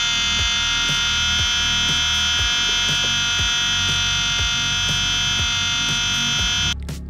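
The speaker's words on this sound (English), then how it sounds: "You'll hear the pump making a noise like so." The Haldex pump on an Audi TTS Mk2 8J runs during a bleed procedure with a loud, steady electric buzzing drone that cuts off just before the end.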